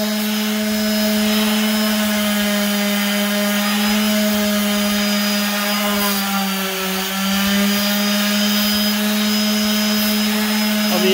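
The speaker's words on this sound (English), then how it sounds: "Barely letting the sander touch this." Power sander held lightly against a wooden dining table to remove its finish, a loud, steady whir with a constant tone and a brief dip in the middle, no voices.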